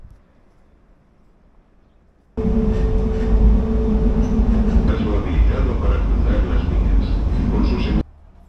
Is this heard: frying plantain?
no